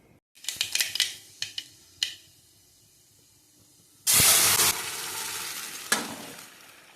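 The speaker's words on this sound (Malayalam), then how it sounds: "നമുക്കതിലേക്ക് കുറച്ച് വെളിച്ചെണ്ണ വെച്ചെടുക്കാം എന്നിട്ട് കടുക് പൊട്ടിച്ചെടുക്കാം" Mustard seeds are heard after a few sharp clinks and taps in a clay pot, followed by a sudden loud burst of hissing splutter in hot coconut oil that fades into a softer sizzle with a final pop.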